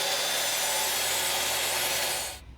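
Steady close hand sawing through a wooden 1x4 board, a continuous rasping stroke noise that runs loud throughout and cuts off abruptly at the end.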